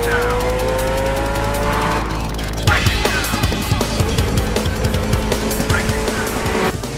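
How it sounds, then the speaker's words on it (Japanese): A tuned car in an anime race on the Wangan highway accelerates hard at full throttle. A rising engine whine gives way to a dense, roaring rush of speed and rattling impacts, loud and close, with no talk. "すごい中間加速や。"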